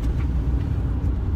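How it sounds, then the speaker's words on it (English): Inside a moving truck on a bouncy ride, a low engine and road rumble drones steadily close by, with faint thumps and no voices. "That's because I'm in the truck and it is so bouncy."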